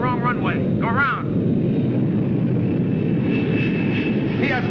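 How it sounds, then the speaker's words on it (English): A 1951 aircraft's engine drones loud and steady through a go-around, a constant low roar with a faint rising tone, while a voice speaks over it at the start. "Aircraft landing on wrong runway. Go around."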